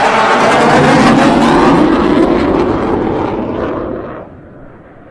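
An F-18C Hornet jet, one of the oldest in service, arrives at an airshow. A loud, close roar dominates at first, then gradually fades and recedes over about five seconds, with no talk.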